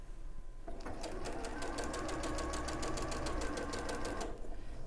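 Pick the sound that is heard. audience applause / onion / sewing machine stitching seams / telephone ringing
sewing machine stitching seams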